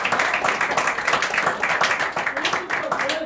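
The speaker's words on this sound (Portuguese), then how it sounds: "Aplausos." Brisk audience applause at a live talk or seminar, dense close clapping that holds steady throughout, with voices mixed in underneath.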